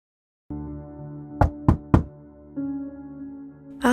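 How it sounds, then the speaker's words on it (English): Three quick knocks on a door sound over a sustained music bed, sharp and close, evenly spaced within a second. "knocked on the door to no answer"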